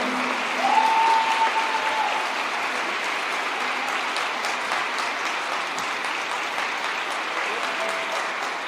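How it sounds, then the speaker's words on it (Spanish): Sustained applause from an audience at a political speech in Mexico, a dense steady wash of clapping that holds evenly throughout at moderate loudness, with no voices rising above it. "Le aplauden aunque saben que está mintiendo."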